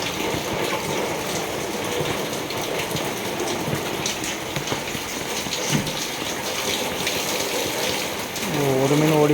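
Heavy cyclone rain pours steadily at a fish-breeding setup, a dense, continuous hiss of drops and running water that swells slightly louder near the end.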